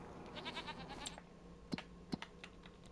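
Goats and sheep in a farmyard pen in Farming Simulator 25, with a few short, clear bleats standing out against a steady low background.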